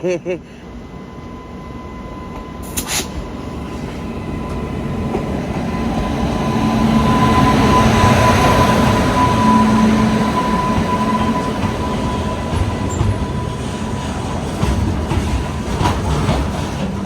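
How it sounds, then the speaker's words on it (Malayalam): A freight goods train passes close alongside at a railway crossing, a loud rolling rumble with rail clatter that swells to a peak midway and then lingers at a steady level. "ദേ ഇവിടെ ക്രോസിങ്ങിനായിട്ട് അടുത്തൊരു ഗുഡ്സ് ട്രെയിൻ വന്നത് കണ്ടാ"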